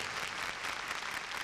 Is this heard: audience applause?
yes